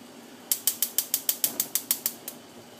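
Stove heat knob being turned on before frying churros, a quick run of about a dozen sharp, evenly spaced clicks from the igniter, close and fairly quiet.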